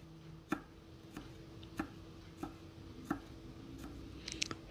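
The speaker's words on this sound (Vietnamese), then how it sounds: "Rồi hai trái ớt mình cũng sắc nhỏ nhỏ ra luôn." A knife slices small hot chili peppers on a cutting board for a vegetarian braised tofu dish, producing a series of quiet, evenly spaced taps, about one every half second, in a quiet kitchen.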